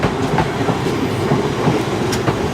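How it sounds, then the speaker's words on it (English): A South Western Railway train to Weymouth pulls away from London Waterloo, its steady rumble and rhythmic clickety-clack of wheels over rail joints filling the station continuously and fairly loud. "Also pulling away is going to be the 1135 South Western Railway service to Weymouth on 1 Whiskey 23."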